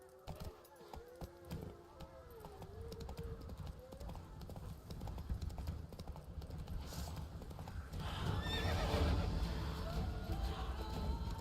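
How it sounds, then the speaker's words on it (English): Roach, Geralt's horse in The Witcher 3, gallops with steady rhythmic hoofbeats and gives a whinny, while voices talk over the hooves and the game's music and ambience build louder toward the end. "Run, Roach."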